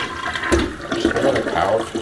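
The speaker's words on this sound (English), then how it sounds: "Just got a powerful flush there" Low-flow toilet using half a gallon per flush, with a strong rushing swirl of water draining and refilling at close range, loud and steady with no talk.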